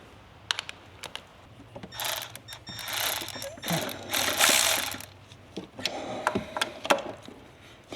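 A ratchet with a swivel socket turns bolts on a 6.7 Powerstroke engine, with rapid clicking bursts and scraping metal handling, close up and irregular, under faint background noise.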